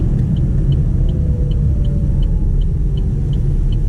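A Chevrolet Bolt, a front-wheel drive electric car, pulls away with a steady loud low rumble of road and tire noise and a faint rising whine, recorded close from inside, with no talking.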